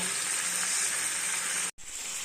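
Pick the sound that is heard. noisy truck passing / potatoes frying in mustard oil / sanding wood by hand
potatoes frying in mustard oil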